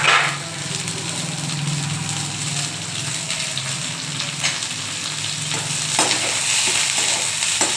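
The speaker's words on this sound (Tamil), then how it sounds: "கொஞ்சம் வதங்கட்டும், சிம்மில் இருக்குது" Garlic and green chillies sauté on a low flame for chana dal chutney, with a loud, steady frying sizzle and intermittent stirring scrapes throughout, close by and without voices.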